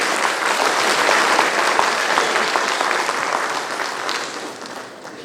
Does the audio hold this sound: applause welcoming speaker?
yes